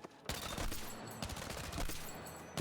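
Rapid automatic SGX SMG gunfire in a first-person shooter game, loud sustained bursts of closely spaced shots filling the clip after a brief quiet start, with a short gap near the middle.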